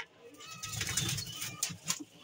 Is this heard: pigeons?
yes